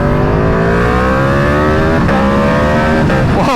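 A loud RSV4 sport motorcycle engine revs hard while being ridden, its pitch climbing steadily, then dropping and rising again, up close and continuous.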